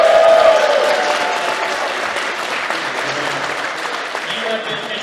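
After an evening debate at an engineering society chapter event, a crowded room breaks into steady applause. A brief whistle or cheer rises at the start, then even clapping continues with a faint crowd murmur underneath.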